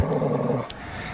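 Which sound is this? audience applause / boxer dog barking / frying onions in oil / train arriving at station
boxer dog barking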